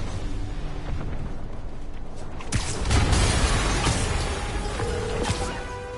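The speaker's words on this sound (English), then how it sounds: "Yuri, an explosion just..." A bomb explosion in a Spider-Man cartoon, a sudden loud burst halfway through that swells into a rumbling roar, following a quieter stretch of background score.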